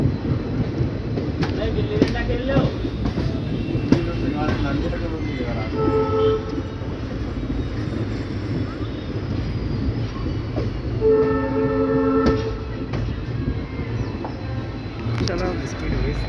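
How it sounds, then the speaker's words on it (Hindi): A train approaching from the junction on the Delhi–Lucknow main line near Bareilly, with a steady loud rolling rumble and two blasts of its horn, one midway and one near the end. "जंक्शन की तरफ से गाइज कोई गाड़ी आ रही है"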